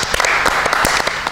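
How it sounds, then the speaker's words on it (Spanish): A live studio audience breaks into brief, dense applause, many hands clapping close together in a short, lively burst with no voices over it. "¡Un aplauso!"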